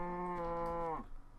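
A cow in Minecraft lets out one long, close, tonal moo that holds steady and then drops off near the end.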